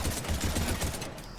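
Gunfire in the video game Mass Effect 3, a dense continuous burst of shots filling the whole stretch at close range, trailing off near the end.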